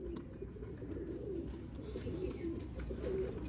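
Pigeons coo continuously in a loft, low repeated rounded calls layered over a steady murmur of birds nearby, moderately loud with no talking.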